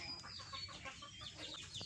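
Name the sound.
chickens clucking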